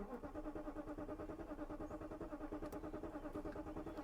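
A BMW engine cranks repeatedly without catching, a steady rhythmic churning of the starter that holds at an even level and never fires up.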